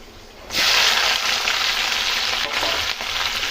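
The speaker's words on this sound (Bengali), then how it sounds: "এবার হাই ফ্লেমে এগুলো আমি ভেজে নেবো পুরো ভালো করে, মানে হালকা করে ক্যাপসিকামটা ভাজবো।" Capsicum frying in a wok on high flame for vegetable fried rice: a sudden loud sizzle bursts in as the pieces hit the oil, then a continuous hissing crackle with brief stirring scrapes.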